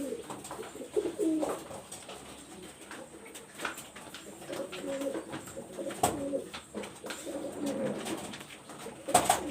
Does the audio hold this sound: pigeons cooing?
yes